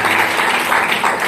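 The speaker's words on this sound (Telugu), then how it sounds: "గట్టిగా చప్పట్లు కొట్టి దేవుని" A congregation claps loudly and steadily during a pastor's Telugu sermon, a dense wash of applause that holds at full strength without pause.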